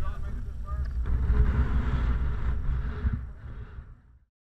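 Strong wind buffets the microphone on a mountain peak in Newfoundland in a rough, rumbling roar that swells and then cuts off abruptly.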